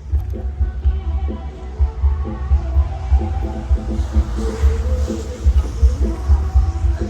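An Isuzu 2.5 VN Turbo diesel engine from 2005 idles in an open engine bay with a deep, steady throbbing hum. The note pulses loudly and continuously, close up.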